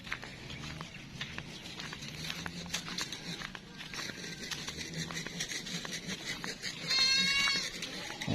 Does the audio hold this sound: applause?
no